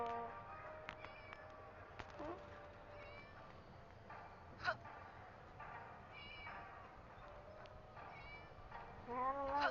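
A kitten meows in the Scary Teacher video game, a series of thin, high mews and chirps at intervals over quiet game background, getting louder at the end.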